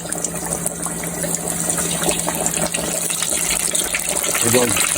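Battered, cornstarch-coated fish fries in hot oil with a constant loud hiss and crackle close by, with no pause throughout.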